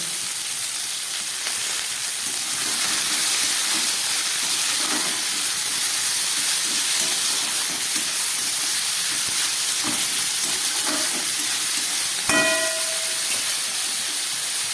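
Vegetables for a vegetarian chorchori fry in a pan with a steady broadband hiss and sizzle throughout, a few faint clinks scattered over the top and a brief metallic ring near the end.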